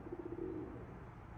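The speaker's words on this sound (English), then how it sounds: "There is a dove hiding in the woodworking. He's like in the roof." Dove cooing from a bird hidden in the roof woodwork of an abandoned church in Detroit, a short run of soft repeated hoots blending into a longer low coo, moderately close over a faint steady background hum.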